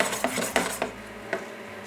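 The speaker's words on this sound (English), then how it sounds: "Dried red chili of your choice go in." Dried red chillies tipped into a pan of oil, a handful of light clinks and taps of utensils against the pan over a faint background, quick and close, with no talk.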